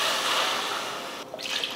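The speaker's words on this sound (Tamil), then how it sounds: "இப்போ தண்ணி சேர்த்து விட்ருவோம்" Water poured into a pot holding soaked rice, lentils and tomatoes, making a short, close hiss and splash that tails off, then a few faint drips.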